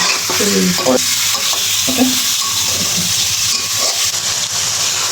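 Meat frying in a pot for biryani is stirred over the heat, with a loud, constant sizzle and repeated scraping and clanking of the spoon throughout, close up and without talk.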